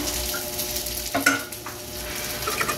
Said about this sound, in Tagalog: Tingnan mo yung hinahalo mo, oh. Durugin mong ganun, ah.